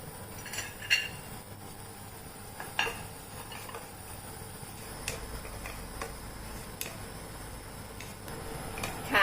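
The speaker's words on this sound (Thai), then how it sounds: "เราจะคั่วขาให้แห้งนะคะ" Galangal is dry-roasted in a pan for Thai chili paste. Light, irregular clicks and taps of a utensil stirring the pan come through over a quiet background.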